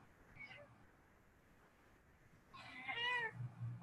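A cat meows indoors, a short faint call followed by a louder, drawn-out meow near the end, over quiet room tone.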